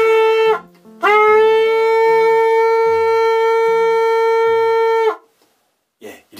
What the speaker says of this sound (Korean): 양각나팔을 대시어서 불게 되면 이런 소리가 납니다.